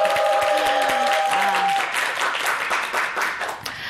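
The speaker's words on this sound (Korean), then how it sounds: "박수로 함께 강연을 청해 보도록 하겠습니다" A studio audience on a Korean morning talk show applauds to welcome a lecture on parents, dense clapping that is loud at first and fades gradually toward the end, with a sustained musical tone early on.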